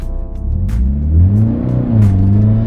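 A coupe from a sports coupe race (an FR-S or a Genesis) roars through a burnout, its engine revving hard in a loud, close, rising and falling drone with no voices over it.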